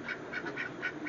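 Backyard ducks eating green tomato hornworms give a quick run of about five evenly spaced quacks, close and moderately loud, with no talking.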